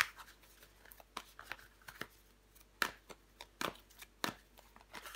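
Tarot cards handled and laid face down on a table, giving a series of sharp, soft flicks and slaps at irregular intervals over quiet room tone, with no talking.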